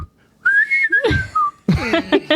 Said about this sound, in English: Set to some of the catchiest whistling ever.